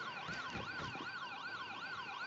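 A video game ambulance siren wails in a continuous up-and-down sweep, steady and loud with a faint hum of traffic beneath it.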